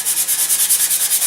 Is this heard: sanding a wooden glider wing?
yes